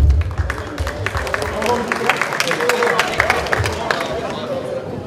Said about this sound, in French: Et on peut applaudir.